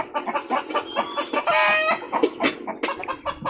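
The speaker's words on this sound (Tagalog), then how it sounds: "kaya lang yan sila maingay dahil may mga labuyo o manok hubat na lumalapit" Chickens clucking close by as red junglefowl approach, with a brief crowing call in the middle, busy and noisy, with scattered fowl calls continuing after.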